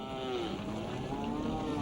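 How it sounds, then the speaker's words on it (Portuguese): Cattle in a herd low with drawn-out, wavering moos over a continuous rumbling wash of background noise, the calls overlapping at moderate distance. "A manada foge em pânico."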